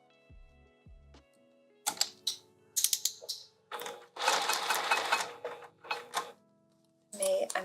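A sewing machine stitching a vinyl sling, running in short separate bursts of fast mechanical whirring and clatter, with quiet gaps and handling noises between the runs.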